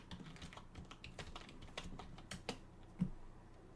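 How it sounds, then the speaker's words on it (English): Quick, quiet keystrokes patter on a computer keyboard as an administrator password is typed at a Windows Server 2008 login, soft irregular clicks with no talking. "Let's go ahead and use administrator and type in our administrator"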